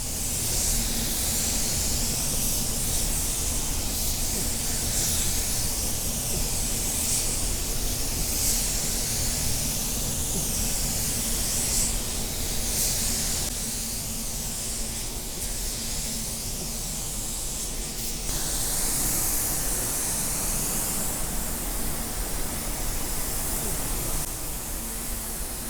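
A paint spray gun sprays a coat of paint in a steady, loud, continuous hiss that holds for the whole stretch with only slight dips in level and no talk.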